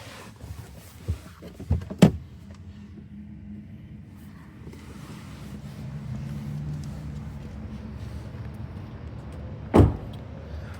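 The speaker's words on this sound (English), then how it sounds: "Opening up the door" A 2026 Toyota Camry SE car door clunks open with a couple of sharp thumps, followed by a low interior rumble and another firm thud near the end.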